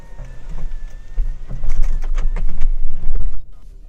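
A 2018 Toyota Camry XSE V6's panoramic sunroof closes in a steady motorized whir that builds over a few seconds, heard close inside the cabin and stopping abruptly near the end.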